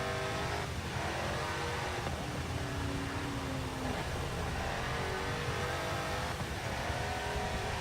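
Toyota race car in the video game Forza 7, its engine roaring steadily and continuously at close range for several seconds, with a dense broadband drone and no talk over it.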